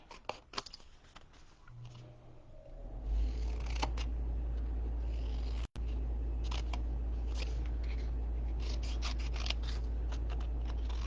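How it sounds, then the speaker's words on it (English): Scissors snip through paper to cut out letters, giving a run of short, crisp clicks and rustles over a steady low hum, close and moderately loud, with no talking. "All the way down, and then we'll cut each letter out."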